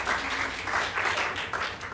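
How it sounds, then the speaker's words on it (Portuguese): A concert audience bursts into applause for the performers in a dense, continuous patter of many hands, fairly close and sustained for a couple of seconds, with no talk over it. "Uma salva de palmas."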